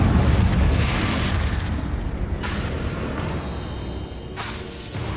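A Confringo spell explodes in the Hogwarts Legacy video game, first as a loud, deep boom that fades slowly, then as a second whooshing burst near the end.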